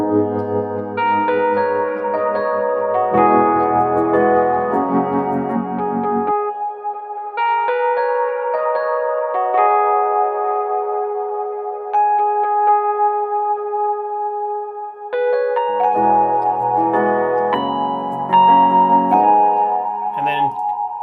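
Mellow Fender Rhodes electric piano chords ring out over soft sustained ambient pads, with echoing, chorus-like shimmer and gentle melodic phrases.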